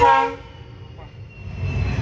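A train horn sounds loudly at the start, then fades under the rumble and clatter of railway cars rolling past close by, with the rolling noise swelling again toward the end.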